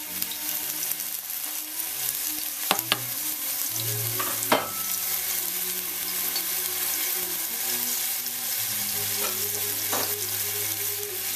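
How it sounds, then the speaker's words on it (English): Ginger and garlic fry in a pan with a steady crackling sizzle, close and continuous, with a few sharp clicks from stirring and faint humming tones beneath. "We're going to fry up the ginger and the garlic."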